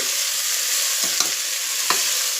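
Ingredients for horse gram sambar sizzle steadily in hot oil in a pan, with a few brief scrapes of stirring breaking through the constant close frying hiss.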